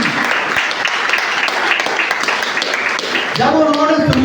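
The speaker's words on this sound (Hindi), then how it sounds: "एक बार तालियां बजा सकते।" Audience applause rising in a steady, dense clatter of many hands, loud and continuous, until a voice begins speaking over it near the end.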